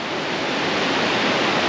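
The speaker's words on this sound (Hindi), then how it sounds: "और ये पानी जो है वो फिर नीचे जा रहा है।" A mountain-valley water channel at Kargah Buddha rushing downstream, a steady, dense roar of flowing water heard close and alone with no voices.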